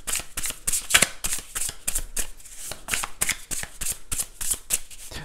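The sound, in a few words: shuffling tarot cards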